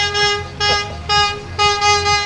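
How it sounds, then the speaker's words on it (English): Truck horn sounding in a rhythmic series of four loud toots at the Greeley Stampede Independence Day parade, each blast a bright, harmonic tone over a low engine rumble. "That's called the horn honk"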